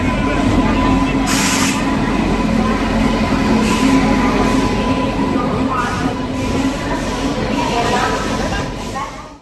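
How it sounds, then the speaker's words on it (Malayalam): Kerala Express train arriving at a railway station, a loud continuous rumble of rolling rail cars with brief hissing bursts, like air brakes, under a busy platform background. "7:30ക്കാണ് ട്രെയിൻ എത്തിയത്."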